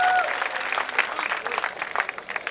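An audience at a mushaira and kavi sammelan poetry gathering in Pratapgarh applauds to welcome a poet, a dense patter of clapping that is loud at first and then tapers and thins toward the end.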